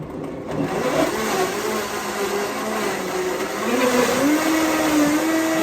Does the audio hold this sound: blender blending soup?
yes